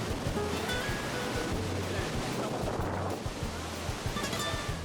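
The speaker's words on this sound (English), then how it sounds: "The water rushes underneath you." Torrent of water rushing and roaring at Iguazu Falls, a dense continuous wash of noise close by with wind buffeting the microphone throughout, no voices.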